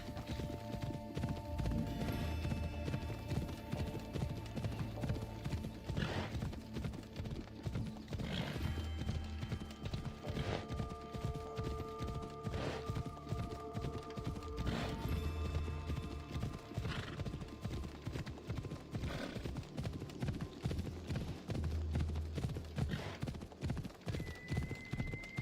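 Steady clip-clop of horse hooves at a quick, even pace, heard over continuous background music, from the video game Assassin's Creed Odyssey.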